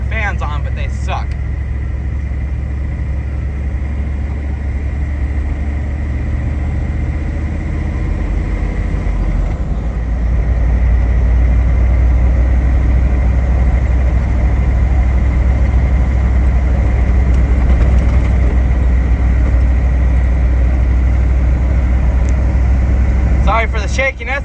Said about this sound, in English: Let the heater be off so we can hear the motor.